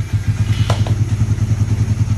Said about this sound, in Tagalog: Umaandar na yung motor kaya pwede nang takpan ng mga kaha to.